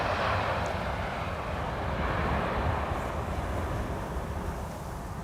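An Emirates airliner on base approach near Schiphol's Polderbaan runway 18R, a continuous broad engine roar holding steady at moderate distance with no voices.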